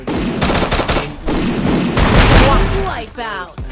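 Rapid gunfire bursts in the mobile battle game Free Fire, loud and dense with repeated automatic volleys, followed by softer whooshing effects at the end; a player's voice is briefly audible.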